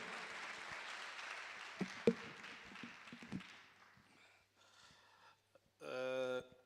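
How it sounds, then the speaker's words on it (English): Applause for a provincial agriculture MEC at a government event fades from a moderate crowd of clapping to scattered claps and silence, then a voice speaks close up. "Ladies and gentlemen, may we please give the MEC a round of applause"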